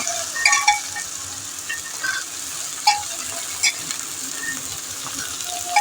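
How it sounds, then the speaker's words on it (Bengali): Chickpeas added to a hot pan sizzle continuously, with a scattered clack of stirring and a few sharper scrapes throughout, loud and close. "ছোলাটা দিয়ে দেওয়া হলো।"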